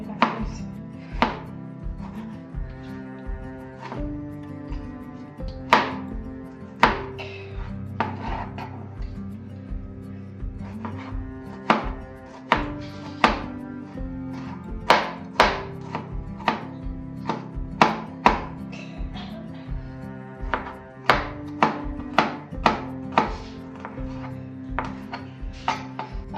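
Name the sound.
knife chopping tomato on cutting board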